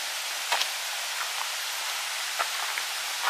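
Steady broadband rush of a village river in Rowo Bayu, flowing continuously at moderate level with a few brief splashy accents and no voices.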